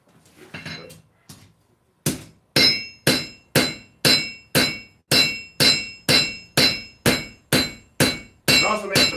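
A hammer rings against a steel blade edge while a bowie knife is forged, about a dozen sharp metallic strikes in an even rhythm, each decaying quickly, after a short stretch of quieter handling noise.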